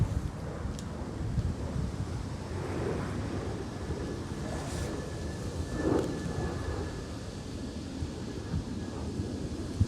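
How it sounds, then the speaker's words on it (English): Strong autumn wind blows continuously across an outdoor bonsai nursery, a loud, close, rumbling roar with buffeting gusts hitting the microphone throughout. "very windy day."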